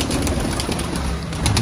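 A Kalduma pigeon coos softly amid outdoor background noise, a short low murmur heard close, with no voices.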